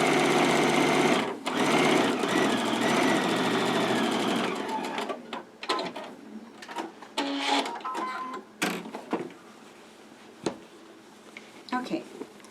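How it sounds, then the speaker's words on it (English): A sewing machine runs in a fast, steady whirring burst while stitching a tote bag seam, then breaks into shorter, choppier stitch runs with pauses, and a voice talks between them. "Make sure as you're sewing that the seam stays off to the correct side."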